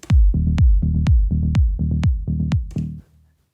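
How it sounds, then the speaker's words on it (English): A punchy techno kick thumps in a steady four-on-the-floor pulse, with a short droning bass note between each hit, loud and close. "We have a kick and a bass which sounds like this."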